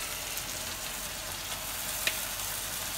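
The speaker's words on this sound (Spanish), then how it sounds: "Vamos a echar los camarones." Shrimp hitting a hot pan for camarones ranchero, a steady close hiss of frying that holds evenly throughout with one brief sharp crackle midway.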